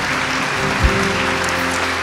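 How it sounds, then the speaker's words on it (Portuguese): A church congregation breaks into applause during a worship service, a brief burst of dense, steady clapping that fills the room, with no voices over it. "Dê um aplauso ao Senhor."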